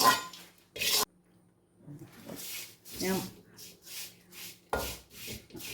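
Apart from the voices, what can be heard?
flattened rice (aval) being roasted and stirred in a pan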